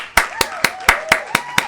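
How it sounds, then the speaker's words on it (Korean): A steady run of seven crisp, evenly spaced hand claps, close and loud, with a voice talking over them. "같이 박수 치셔야죠."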